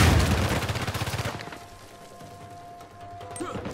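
Shotgun fire erupts in a firefight in the video game Uncharted 4, with a rapid burst of loud blasts and impacts at the start, then a fading rumble and ringing tail.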